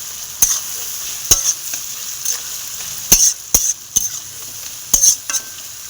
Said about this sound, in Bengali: এরকম সুন্দর করে পেঁয়াজটাকে কষে নেবো।